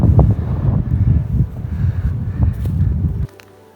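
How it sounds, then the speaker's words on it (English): Strong gusting wind on the summit of Shropshire's highest hill buffets the microphone with low, rumbling roars, then drops off abruptly near the end. "It's always windy up here."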